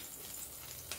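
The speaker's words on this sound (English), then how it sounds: "just allowing it to sizzle, and I'm ensuring that the butter has spread all over" Butter sizzling in a pan over a low flame, melting ahead of a soufflé omelette, gives a faint, steady hiss that runs through the whole moment with no voices.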